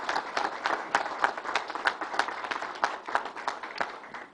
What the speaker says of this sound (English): Let's give a big round of applause to everyone you heard from